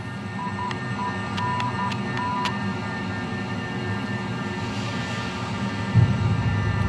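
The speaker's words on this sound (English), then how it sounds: "There's the rest of the flaps," Flaps extend on an A-5 Vigilante in an FSX flight simulator game during carrier landing preparation, a faint steady electric whine under a low cockpit hum, with a short series of brief beeping tones and a soft bump near the end.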